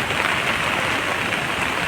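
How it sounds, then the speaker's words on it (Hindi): Heavy rain falls by the swollen Kosi river at the Kosi barrage as a steady, dense broadband hiss with no pauses or voices. "और आप देख रहे होंगे कि बारिश पूरे जोरों पर है।"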